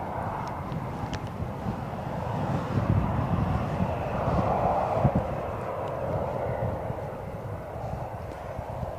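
A Lufthansa airliner departs Birmingham Airport, its engine noise a moderate, rumbling roar at some distance that swells slightly in the middle and stays fairly even throughout.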